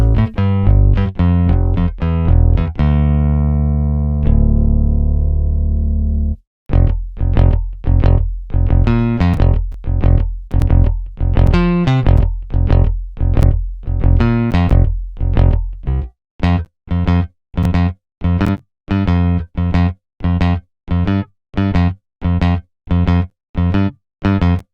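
Thick synth bass built from a saw wave layered with noise, driving a dense electronic track with heavy chord hits; loud, sustained notes give way to a steady pulsing rhythm of short repeated stabs.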